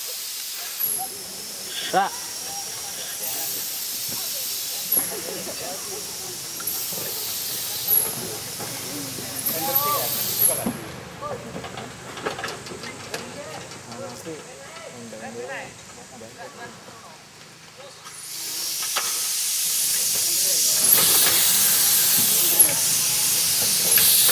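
A train locomotive vents steam in loud, broad hisses, short bursts early on, then a long sustained blast at the end, with people talking in between.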